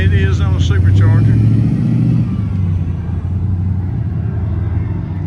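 A supercharged Jeep with two pipes sticking out of the hood idles at the Goodguys Nationals car show in Columbus, Ohio, its deep engine rumble loud and close, with people talking over it.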